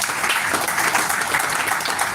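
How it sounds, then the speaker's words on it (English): An audience at a Superlife health summit celebration claps, a dense, steady wash of applause heard from within the crowd. "Please let's clap for Superlife."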